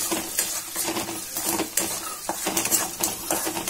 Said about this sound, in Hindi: हल्दी को चला लेंगे हम